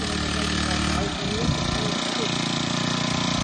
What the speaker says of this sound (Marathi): इकडून ऑइल आणि इकडून पेट्रोल ओतून त्यांनी पंप चालू केला